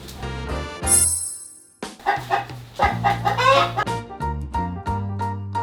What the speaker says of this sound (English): let's go catch us one chicken